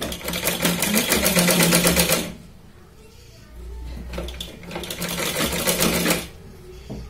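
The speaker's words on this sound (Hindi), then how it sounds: "आणि या पद्धतीने आपण शिलाई लावून घेणार।" An electric sewing machine stitches a blouse in two fast runs of rapid, even needle clatter, close, with a quiet pause between runs while the fabric is handled.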